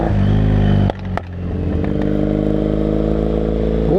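A British motorcycle rides by with a loud steady engine drone. A brief drop and a couple of clatters come near the start, then the engine settles into an even note.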